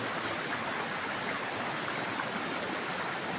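River water rushing steadily over stones in a shallow, sandy riverbed, a continuous broadband wash with no pauses, close and even throughout.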